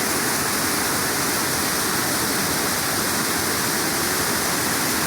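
Water from the spring at Mother Ludlum's Cave near Waverley Abbey pours in an unbroken, loud rushing roar, close by and even throughout, with no talking.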